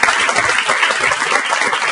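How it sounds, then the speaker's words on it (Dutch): Dense, steady applause from an audience at a local sports television program's presentation, loud and continuous throughout with no talk over it. "Applaus voor de kanjers hier aan toppen."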